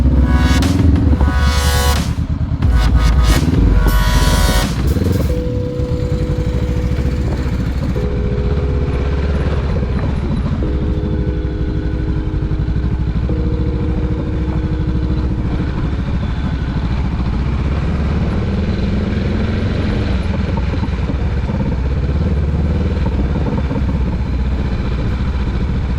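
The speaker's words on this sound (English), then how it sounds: "Motorcycle, baby." A 2022 adventure motorcycle engine running steadily throughout, with a loud close drone and some clatter, plus a stretch of sharp high-pitched bursts near the start before the engine settles into a continuous mid-pitched hum.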